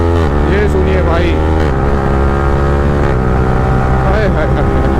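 Modified Yamaha R15M motorcycle with a loud aftermarket exhaust and full quickshifter, revving hard and close with rising and falling engine pitch through gear shifts, a voice talking over it.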